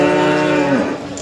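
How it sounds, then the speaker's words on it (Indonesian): A bull moos loudly and close by at a cattle market, one long, drawn-out low call that tapers off near the end, with no talking over it. "Oh ini sapi jantan ternyata."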